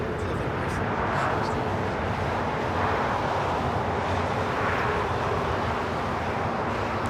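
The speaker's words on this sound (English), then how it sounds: "This is British Airways 282 taking off to London Heathrow on the" British Airways Boeing 777-300ER taking off from LAX, a steady broad jet roar that swells slightly and stays continuous throughout, heard from a distance.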